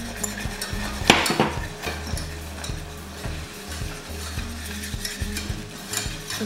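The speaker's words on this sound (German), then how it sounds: "Das rührt ihr dann da ein in die Butter." Flour is stirred into melted butter in a pot to start a béchamel for lasagne: scraping, clattering spoon strokes against the metal with a faint sizzle underneath, one sharp knock near the start, steady and close with no voices.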